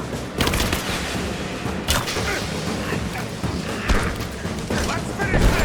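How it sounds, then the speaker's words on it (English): Gunfire in Rise of the Tomb Raider, a video game: bursts of shots and impacts crackle throughout at a steady loud level, with voices mixed in. "I'm under fire!"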